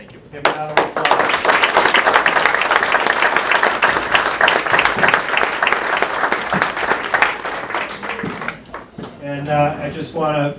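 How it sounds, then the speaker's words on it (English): A crowd at a Veteran's Day breakfast gives a loud, sustained round of applause that fades toward the end, and a voice starts speaking as it dies down. "Give a round of applause."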